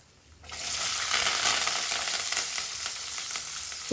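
Onion and curry leaves hit hot oil for a Chennai-style vada curry, bursting into a steady, close, loud sizzle that holds for several seconds after a brief quiet start.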